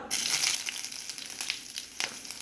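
Onion dropped into hot oil already seasoned with cumin and turmeric, giving a loud, bright, steady sizzle with crackling bursts that eases slightly after the first moment.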